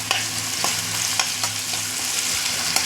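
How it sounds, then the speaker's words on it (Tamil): Half a cup of onions sautéing in a pan for a puffed-rice snack, a steady close sizzle with occasional stirring scrapes and clicks, no talk. "இப்போ அரை கப்பு ஆனியன் நல்லா வதக்கி விட்டுக்கணும்"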